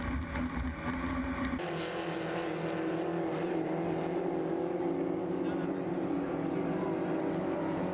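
A racing hydroplane with a 2.5-litre engine roars past the municipal dock at St-Félicien, a loud, close, sustained engine drone that shifts as the boat goes by, with an announcer talking over it.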